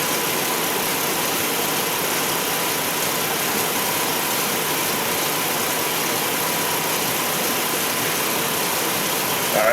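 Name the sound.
car engine idling with headlights and blower motor on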